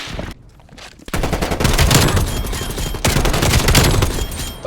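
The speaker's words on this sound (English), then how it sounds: "Like people are shooting me." Rapid automatic gunfire in the video game Call of Duty Cold War rattles loud and continuous after a short quieter lead-in, with bursts overlapping into a dense, sustained fusillade.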